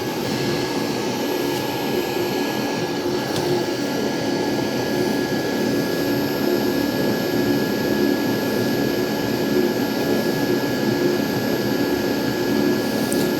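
A Zacme 7.4-quart stand mixer runs steadily on its lowest speed while flour and salt go in, a constant close motor whir with a faint high whine and no break across the whole stretch.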